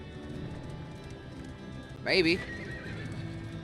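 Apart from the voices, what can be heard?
horses pulling the stagecoach in video game Darkest Dungeon 2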